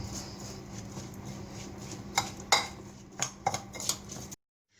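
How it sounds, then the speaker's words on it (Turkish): A spoon stirs peppers in a metal pan, making several sharp scraping clinks against the pan over a low background hum before everything cuts to silence. "şimdi bunları güzelce karıştıralım ve biberlerimizi karıştıralım"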